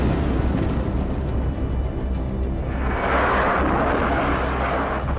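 A World War 1 aircraft engine drones steadily and loudly overhead, a dense rumbling roar that swells in its upper range partway through.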